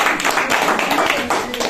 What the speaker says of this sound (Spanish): Un aplauso entonces para todos.